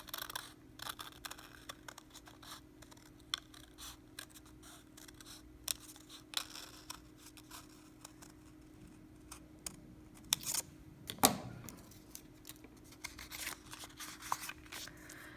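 Scissors snip through two layers of folded paper to cut out a tessellation shape, heard as faint, close, intermittent crisp snips and paper rustles over a low steady hum.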